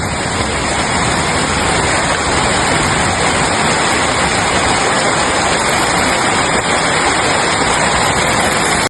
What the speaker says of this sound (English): heavy rain began to fall at a high intensity